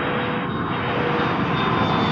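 A jet airliner rolls down a runway at Toronto Pearson Airport on its takeoff run, a loud, steady roar of engines with broad rushing noise throughout.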